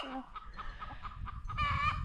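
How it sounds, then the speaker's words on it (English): A hen clucks after laying an egg on a wild homestead, a short run of faint, distant squawking calls outdoors. "A chicken just laid an egg in there."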